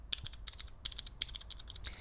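Rapid keystrokes on mechanical keyboard switches being tested before building a custom keyboard, a steady close-up patter of sharp clicks with a few louder taps, no talking.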